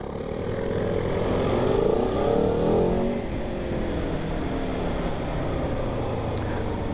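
A 2021 Aprilia Tuono V4 Factory 1100 motorcycle being ridden, its engine pulling with a rising rev around two seconds then settling into a steady rumbling drone with wind noise, loud and close.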